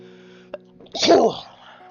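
A video game character from OneShot gives one sharp, forceful sneeze with a quick inhale before it, set against a quiet, steady background hum.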